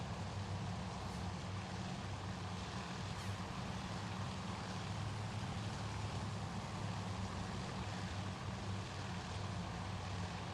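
Japanese Zero propeller fighters fly low in a Battle of Midway naval warfare game, heard as a steady, faint, droning propeller engine hum that holds constant throughout, with no talking.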